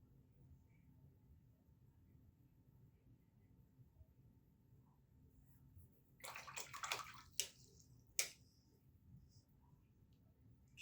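A paintbrush is swished and rinsed in water, a burst of close splashing and sloshing with a few sharp taps against the container, following a long stretch of quiet low room hum.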